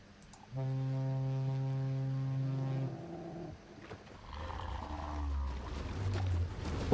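Deep horn blast in the video game L'Amerzone, a long steady harmonic tone lasting a few seconds, followed by lower rumbling sounds and a faint voice.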